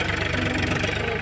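A tractor engine runs steadily while levelling dumped soil in a farm field, a loud, continuous mid-to-low rumble with knocking texture, close by and unbroken.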